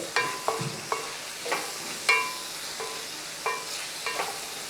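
Egg puff gravy with soy sauce and tomato ketchup sizzles gently in a pan while a spoon stirs it, giving a series of sharp metallic scrapes and clinks over a low frying hiss, close and without speech.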